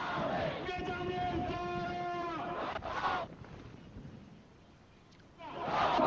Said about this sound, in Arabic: ورددوا هتافات مناهضة للانقلاب العسكري